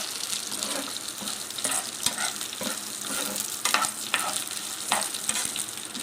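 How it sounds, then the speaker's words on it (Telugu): Onion and lentils fry in a pan with a steady close sizzle, broken by repeated scraping stirs and light clinks of the spoon against the pan. "ఆనియన్ని కూడా ఇంకొక 2 మినిట్స్ బాగా ఫ్రై చేసుకుందాం."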